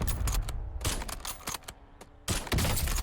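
Gunfire in the Call of Duty Warzone video game, several bursts and single shots with short gaps between them, close and fairly loud.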